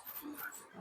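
A two-year-old Chippiparai, a native running dog from the forest, lets out a brief, faint whimper lasting under a second against a soft background hiss.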